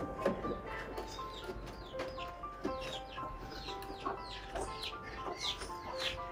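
Laying hens clucking softly and continuously in a coop, a steady mix of short murmuring clucks and chirps from several birds close by, calm and fairly quiet.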